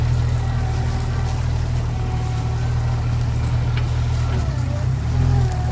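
A Jeep TJ crawls off road in low gear with no throttle, giving a loud, steady low engine rumble close by with faint rattles over it.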